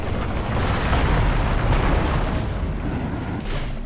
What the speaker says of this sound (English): Buildings fall apart.